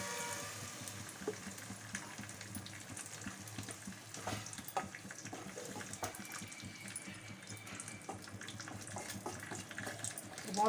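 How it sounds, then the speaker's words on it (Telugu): Water goes into a simmering vegetable curry in the pan, a faint continuous splashing and sizzle with soft stirring scrapes. "కొంచెం వాటర్ వేసుకున్నామండి, గ్రేవీగా వస్తుంది."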